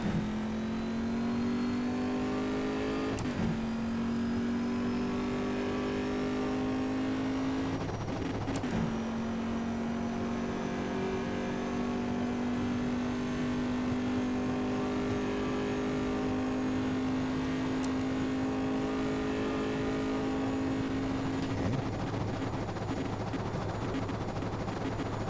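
A car engine in the racing game Assetto Corsa revs hard through its gears, each climb in pitch cut off by a sharp upshift, with a loud, steady drone and no voices.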